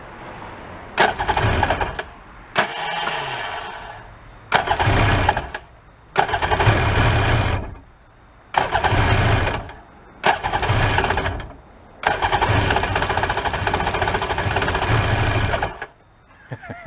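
A broken jet ski engine bought at a yard sale, running in loud bursts of revving about two to three seconds each, separated by short pauses and ending in one longer run.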